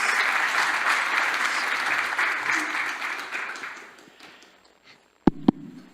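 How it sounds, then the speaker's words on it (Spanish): Audience applause at a civil-society panel on crime prevention, dense and steady for about four seconds, then fading out, followed by a couple of sharp knocks near the end. "Adelante, señor Cetina, un aplauso"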